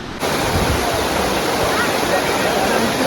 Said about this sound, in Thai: ตอนนี้ผมก็ถึงแล้วครับผมจุดไฮไลท์นะครับ ของน้ำตก ภูถ้ำพระนะครับ